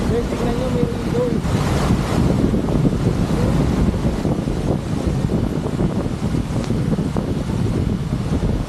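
Strong wind roars steadily against the microphone at Hulugan Falls, Laguna, a loud continuous buffeting rush with surf-like noise underneath throughout.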